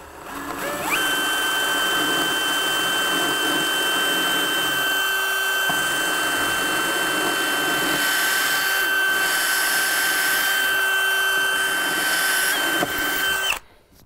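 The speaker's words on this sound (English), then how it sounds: "That's just a regular drill bit." A regular drill bit boring into a hard, wood-like composite material, a steady high-pitched whine held near and loud for about twelve seconds before stopping abruptly.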